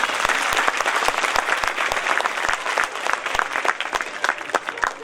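Audience at a school function applauds, a loud stretch of many hands clapping with distinct individual claps standing out sharply in the mix.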